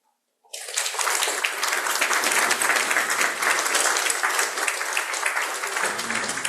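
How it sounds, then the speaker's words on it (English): Loud, sustained audience applause at a live event, starting abruptly and continuing steadily as a dense wash of clapping from a large crowd, with no speech over it. "Let's give him another round of applause."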